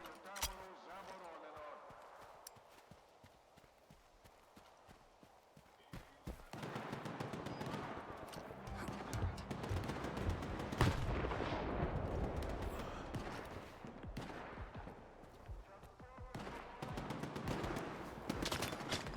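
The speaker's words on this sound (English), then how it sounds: "Why are you shooting at me?" Gunfire from the video game STALKER 2: rapid bursts and rattling shots that grow loud and dense after the first few seconds and continue as a sustained barrage, with a voice talking over the shooting.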